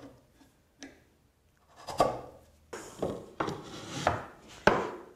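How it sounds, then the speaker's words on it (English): A sharp chisel pares waste from cherry wood for a wall cabinet, giving a series of close, crisp cutting and chopping strikes, sparse at first then quicker and louder toward the end. "Now just using a sharp chisel, I'm going to remove the remainder of this waste."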